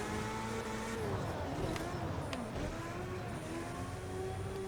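A Formula 1 car engine running on dirt in a racing video game drones loud and continuous, its pitch dipping and rising as revs change, with some tire noise over the engine.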